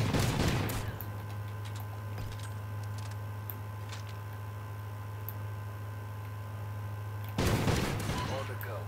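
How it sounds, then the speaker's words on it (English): Shotgun blasts in a video game free-for-all match: two loud, sharp bursts, one at the start and another near the end, with a steady low hum and sparse game noises filling the gap between them. "Okay, so this shotgun is really failing me right now."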